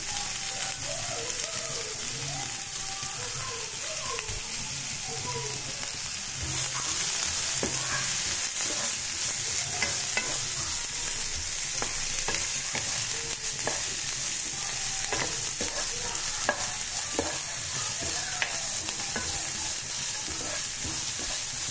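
Chopped vegetables fry in oil in a pan for vegetable oats while being stirred, a continuous crackling sizzle close by with scraping and clattering stirring strokes scattered through it, and no talking.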